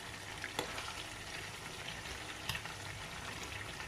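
Flaxseed oil sizzles and fries in a pan while it is stirred, giving a soft, steady crackle with a couple of light scraping clicks, fairly faint, and no one speaks.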